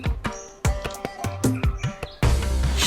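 Bird chicks in a nest call continuously with rapid high chirps and peeping tweets, close and fairly loud, joined near the end by a burst of broadband rustling noise.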